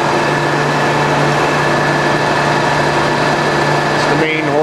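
Steady, even electrical hum and whine of the feed motor on a Cincinnati #330 18 VerciPower horizontal/vertical milling machine, running continuously up close with a slight change near the end.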